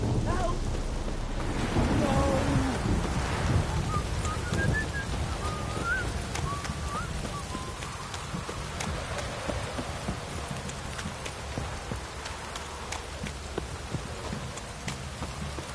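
Heavy downpour pours steadily in the video game The Witcher 3, with a low rumble of thunder early on and faint hoof clip-clops beneath the constant hiss of rain.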